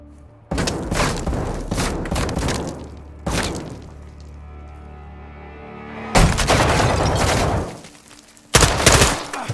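Bursts of gunfire in a Call of Duty: Modern Warfare II cartel mission, loud dense volleys separated by brief lulls, rattling automatic fire and heavy booms, close and forceful.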